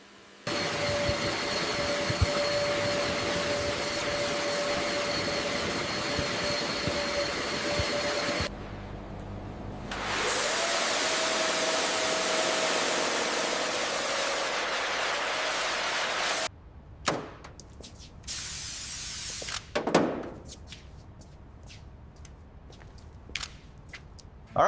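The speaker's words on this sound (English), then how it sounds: "We have to use the high-pressure washer to strip all this away before we can start the real work." High-pressure washer blasting caked mud off the underside of an abandoned Nissan Skyline GT-R R34, a loud steady hissing spray that cuts off abruptly, returns, then gives way to shorter bursts and clatter.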